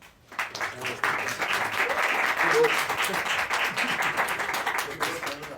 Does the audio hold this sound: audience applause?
yes